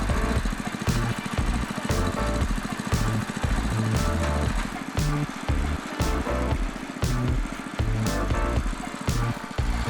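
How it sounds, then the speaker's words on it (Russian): An Iron Angel GT-06 motor cultivator's small engine runs close by with a steady, loud chugging beat and regular heavier thumps throughout. "Для регулировки необходимо завести мотокультиватор и подтягивать гайки оболочки тросика, пока не начнет вращаться вал и двигаться ремень."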